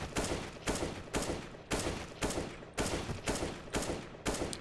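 Gunfire in Counter-Strike: Global Offensive comes as a steady series of about nine single tapped shots, each a sharp crack with a brief tail, spaced evenly and loud, with no talking.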